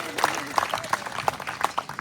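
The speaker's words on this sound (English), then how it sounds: "Give him a clap." Scattered applause from a crowd at an outdoor political rally in Bundaberg, individual claps audible and moderately distant, with faint background voices.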